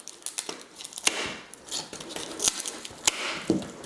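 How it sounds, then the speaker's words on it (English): Sharp snips and crunchy cuts as dahlia stems are trimmed back with cutters, close and crisp, several irregular clips with rustling of the plant between them. "So I'm gonna cut the stems back"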